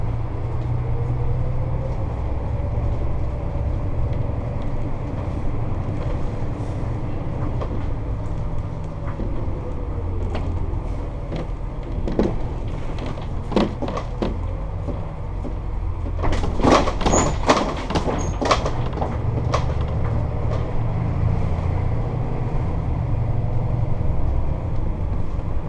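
Steady rumbling road noise inside a diesel coach on a test drive, with a constant low drone, bursts of rattling and clattering as the bus shakes over speed bumps, and no talking.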